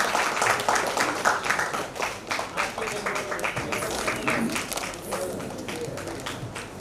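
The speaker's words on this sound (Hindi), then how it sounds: "अपने आप में ये जोरदार तालियां होनी चाहिए" Audience applause at a Kargil Diwas event held by a club, a dense, sustained patter of many hands clapping close by, with scattered voices mixed in.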